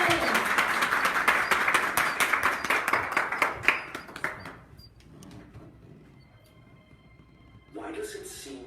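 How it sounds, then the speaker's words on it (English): Applause from a morning audience, a dense wash of clapping for about four seconds that thins and fades out, followed by a quieter stretch with a voice returning near the end. "give yourself a round of applause for being here this morning"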